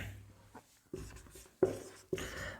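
Pen on paper during a class 10 math exercise, with a few distinct scratchy strokes and taps spaced about half a second apart, close and fairly quiet.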